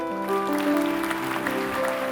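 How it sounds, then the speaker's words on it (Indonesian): Congregation applause during a church service, a soft, dense clapping texture running beneath sustained organ or keyboard chords that dominate the sound. "Kasih tepuk tangan untuk Tuhan"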